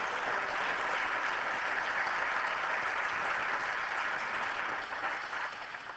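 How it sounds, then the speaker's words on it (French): Sustained, dense applause from an assembly at an administrative council session, steady and fairly loud for several seconds before easing off toward the end. "Je vous demande de l'applaudir bien, bien fort"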